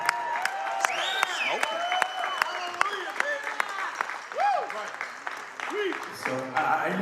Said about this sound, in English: give God a big round of applause tonight